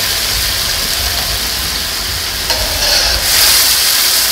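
Onions stirred on a griddle for smashed burgers give a loud, steady sizzle with soft scraping, and the frying grows a little brighter toward the end.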